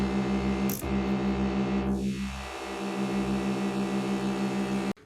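A sustained buzzy synthesizer tone runs through a notch filter, with a sweeping downward glide of the filter partway through before the sound cuts off abruptly.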